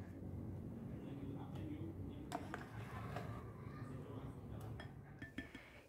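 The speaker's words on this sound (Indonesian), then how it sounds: "Ini cukup saya aduk tanpa mixer dan hasilnya lembut sekali." A whisk or spoon clinks lightly against a bowl as cream is stirred by hand into custard. The taps are scattered and quiet, over a soft background hum.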